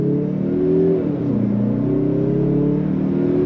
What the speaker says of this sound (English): We're gonna go on throttle right from a dead stop.